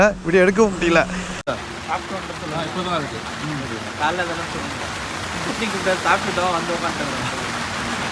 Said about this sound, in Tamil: சரியான மழை பெஞ்சிட்டு இருக்கு